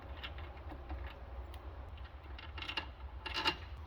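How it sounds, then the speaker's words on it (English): Faint metallic scraping, rubbing and clicking as a wheel bearing and washer are pulled off the greasy front hub of a 1960s Ford Falcon, in short irregular bursts close by. "Pull your bearing and the washer out."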